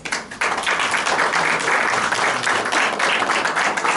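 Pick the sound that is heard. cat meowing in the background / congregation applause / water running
congregation applause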